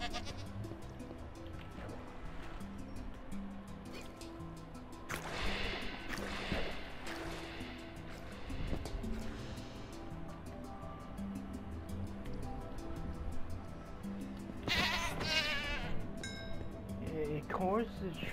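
A goat in the video game Minecraft bleats in short nasal calls over a soft wave-like ambient background, with a person talking over much of it.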